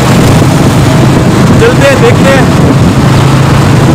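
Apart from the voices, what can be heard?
motorbike riding on a road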